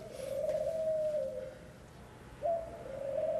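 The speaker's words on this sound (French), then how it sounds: "Écoulement de pigeons sur le champ de Mars" Pigeons on the Champ de Mars in Paris give a soft, drawn-out coo, then a second after a short pause, heard against a low outdoor hum.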